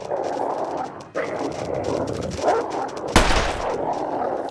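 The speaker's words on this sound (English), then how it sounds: "Here, I'll shoot you in the face." Pistol fire at wolves in the survival video game The Long Dark: one loud, sharp gunshot cracks out near the end over a continuous layer of game ambience and wolf snarling, with someone speaking briefly.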